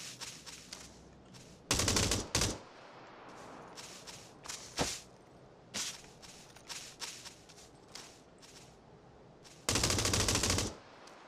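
Gunfire in the battle royale game PUBG, with M249 light machine gun use: loud sustained bursts and scattered single shots with sharp cracks, alongside soft footsteps and shuffling, no talk.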